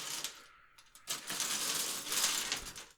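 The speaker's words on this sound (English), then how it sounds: "I do love the sound of picks being spread across the table." Guitar picks spread across a table give a quiet clatter of small plastic clicks and a light skittering rattle. It comes in two close bursts, with no voice over them.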